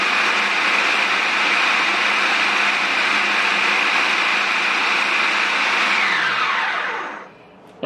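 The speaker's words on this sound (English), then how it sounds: "This is why I'm using a food processor rather than a blender." A food processor whirs steadily, chopping hot peppers with green onions and sea salt into a Caribbean pepper oil, a loud even blending roar that winds down near the end.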